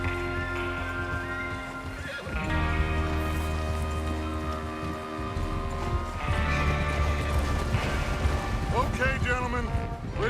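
Horses in the Red Dead Redemption 2 video game, hooves clip-clopping with mechanical rattles and a few whinnies under a continuous music bed over about ten seconds, fairly close and moderately loud.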